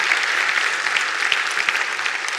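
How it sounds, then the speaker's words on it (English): A conference audience at Cyberweek 2018 applauds with steady, full clapping from many hands that continues evenly throughout. "big round of applause for everyone who make this happen"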